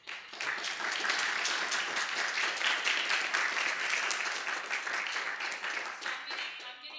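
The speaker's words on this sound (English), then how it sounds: "a huge round of applause to everyone that's here today" A crowd at a student government candidates' town hall breaks into sustained applause, dense clapping swelling quickly and holding steady for several seconds before tapering off.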